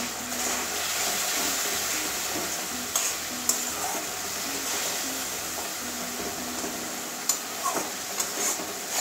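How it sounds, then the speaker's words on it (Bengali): Spices sauté in oil for a soya chunk and sweet potato curry, a steady hissing sizzle that runs throughout, with a few faint occasional scrapes from a spoon, fairly close and without voices. "এবারে ভালো করে কষিয়ে নেব।"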